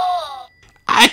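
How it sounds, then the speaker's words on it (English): A narrator's voice acts out a sneeze for a Peppa Pig audiobook character, Pedro Pony: a drawn-out tonal wind-up, a short pause, then one sharp, close burst. "Achoo! Achoo!"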